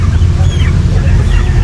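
Ducks quack beside a disturbed nest that has been partly buried in soil, giving loud, close, harsh honking calls that run together across the moment.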